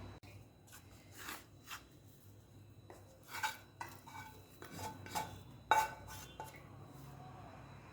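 Roasted besan flour being spread across a metal plate, with scattered scraping and clinking metal taps of a spoon against the plate, irregular and close, fairly quiet with pauses between strokes.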